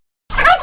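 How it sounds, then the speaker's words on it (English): A turkey gobbles in one short, loud burst that starts abruptly after a moment of silence, with no talk. "Turkey."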